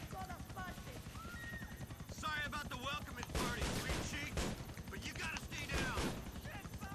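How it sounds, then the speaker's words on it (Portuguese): A helicopter in GTA IV during a gunfight, its thudding rotor chop running underneath bursts of gunfire and other game sounds, with voices talking over it. "Tem um helicóptero também atrás da gente,"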